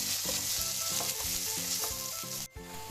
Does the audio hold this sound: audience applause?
no